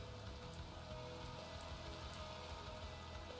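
Steady rain falls in a dense, even patter on surfaces, quiet and continuous throughout with no voices.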